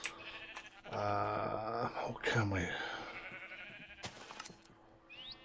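Sheep bleating in Minecraft, a few wavering bleats heard over a voice talking, with other game sounds around them.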